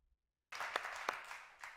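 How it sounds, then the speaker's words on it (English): A studio audience at a talk show monologue starts clapping abruptly after a brief silence, a sustained burst of applause with a few sharper claps standing out. "Clap it up. Clap it up."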